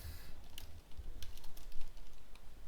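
Code is typed on a computer keyboard in a steady patter of close, light key clicks with brief pauses, no voices.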